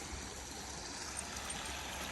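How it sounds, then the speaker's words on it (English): A creek running high after rain in the woods makes a steady, even rush of flowing water that is faint and continuous, with no voices. "And here's the creek."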